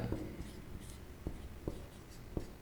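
A pen scratches across paper in short, faint strokes at an uneven pace, close by and quiet against a soft background.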